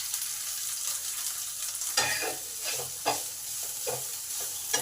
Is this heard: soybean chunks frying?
yes